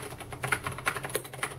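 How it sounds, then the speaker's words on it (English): Ajazz AK510 mechanical keyboard being typed on, a close, quick irregular run of clicky keystrokes in short bursts, heard alone. "Even just typing that command was fast and natural for me."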